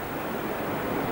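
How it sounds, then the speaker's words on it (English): Breezy wind blows outdoors near a coastal resort area on a sunny day, a dense steady rushing roar buffeting the microphone with no breaks or voices. "Quite breezy."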